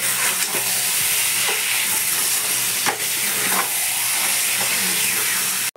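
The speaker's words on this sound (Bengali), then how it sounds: "লোটে মাছগুলো দিয়ে দিলাম, দিয়ে হালকা হালকা করে নাড়বো।" Bombay duck fish stirred gently in a sizzling frying pan, a continuous close hiss of hot oil broken by occasional scraping strokes of the spatula, cutting off abruptly at the end.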